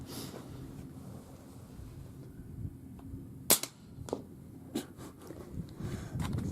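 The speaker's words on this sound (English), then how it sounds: "final test with the Savage MSR-15. This is subsonic ammo with suppressor." A suppressed Savage MSR-15 rifle fires subsonic ammunition outdoors, a single sharp muffled crack followed by a few fainter knocks over light wind noise.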